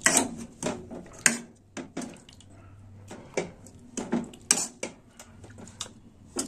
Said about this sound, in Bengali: এই দেখুন, আলুর জলের মধ্যেই আলুটাকে মেখে নেব।